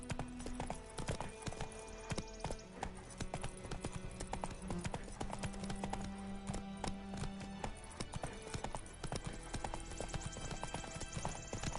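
Roach, Geralt's horse in The Witcher 3: Wild Hunt, trots with steady, close clip-clopping hooves throughout, over an ambient game soundscape with low droning music; brief voices in the background.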